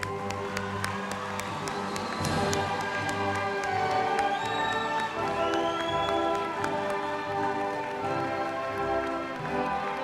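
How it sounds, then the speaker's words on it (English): An audience at an adult education GED commencement ceremony applauds and cheers the graduating class, dense continuous clapping filling the hall with faint tones beneath. "I think we should give them another round of applause before we let them out."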